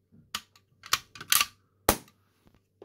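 A toy cap gun fires its caps in a handful of sharp, irregular snaps with small mechanical clicks between them, close and dry with no talking.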